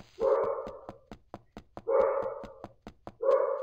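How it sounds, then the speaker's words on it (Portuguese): A pet dog barks indoors in three loud, drawn-out, whining bursts, spaced about a second and a half apart, over a steady rapid ticking pulse. "Você tá latindo pro nada, meu amor?"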